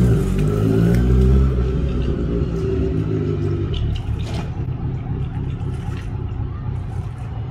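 A Kawasaki Z900 motorcycle engine revs loudly up close, then pulls away and its rumble fades into the distance, with no talk.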